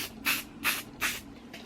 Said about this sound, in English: So now for the hairspray